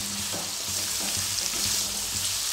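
Boiled jackfruit frying in a pan with oil and salt for a Bengali curry, a steady close hiss and sizzle throughout, with faint stirring knocks underneath and no talking.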